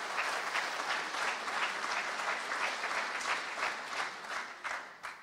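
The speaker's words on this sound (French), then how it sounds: "Je vais laisser le public vous applaudir d'abord" Audience applause at the Assises de la Filière Equine in Caen, a dense steady wash of many hands clapping throughout, moderately loud and fairly close, with no talk over it.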